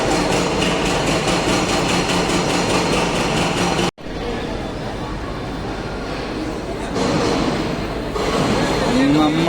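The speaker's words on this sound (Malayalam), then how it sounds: "നമ്മളെ ട്രെയിൻ ഇതാ എത്തി" A local train pulls into a busy suburban railway platform, a steady heavy rumble of rolling cars and engine noise, briefly cut and then continuing with rising clatter and a faint squeal as it slows.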